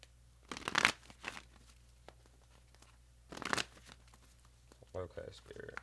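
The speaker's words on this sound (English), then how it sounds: "Give these a good little shuffle first" Oracle cards being shuffled by hand in a few brisk riffling bursts with pauses between, close and fairly quiet, with a brief soft voice near the end.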